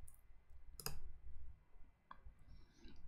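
A mouse click sounds as a single sharp, faint tap, followed by a second softer click a moment later over a quiet background.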